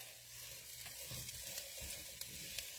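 Spiced Indian potatoes with seasonings sizzle steadily in a pan while being stirred, a constant close frying hiss with occasional soft scrapes.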